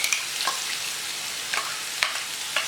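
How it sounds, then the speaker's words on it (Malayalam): Ground masala sautéing in hot ghee over a low flame, a steady close sizzle broken by a few sharp scrapes of a spoon stirring the pan. "അതിനുശേഷം സ്റ്റൗ ഒരു ലോ ഫ്ലെയിമിൽ വെച്ചിട്ട് നന്നായിട്ട് വഴറ്റി കൊടുക്കണം."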